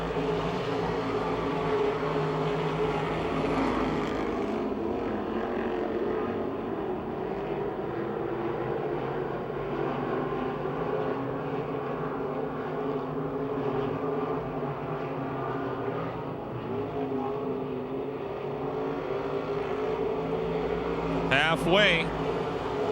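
Race cars on the Pennsylvania Motor Speedway oval near Pittsburgh roar in a steady, loud, continuous drone as they circle the track, with a brief sharper burst of sound near the end.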